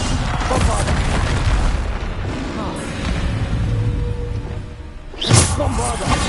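Bombarda explosion spell cast in the video game Hogwarts Legacy, with a loud continuous rumble of battle and a sharp booming blast near the end, under spoken incantations.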